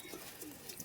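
A single pigeon coos softly, a short faint murmur at close range with nothing else around it.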